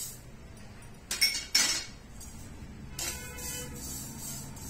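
Sesame seeds dry-roasting in a kadhai: a couple of sharp metallic clatters and a rushing burst, then softer scraping and rattling close by.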